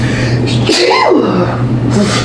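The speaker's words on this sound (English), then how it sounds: "I'm about to sneeze." A single sneeze bursts out close up, with a sharp intake before it, over a constant low hum and steady background noise.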